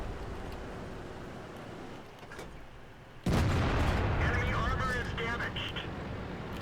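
In the World of Tanks video game, a single tank cannon shot lands as a loud, sudden boom partway through, then a rumbling tail as engine and battle noise continue, with a player talking over it.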